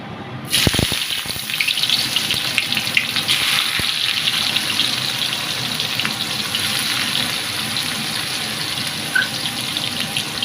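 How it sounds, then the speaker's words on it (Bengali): Onions frying in hot oil for chicken biryani beresta, a dense, steady hiss and crackle after a sharp start, continuous and close, with faint scrapes now and then. "যতক্ষণ ভাতটা হচ্ছে এদিকে পেরেস্তাটা করে নেব। তেল গরম হয়ে গেছে"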